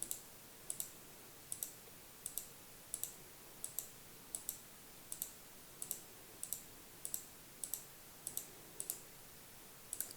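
A computer mouse clicks repeatedly on a web page heading, crisp sharp clicks at a steady, roughly even pace, close and alone over faint room hiss.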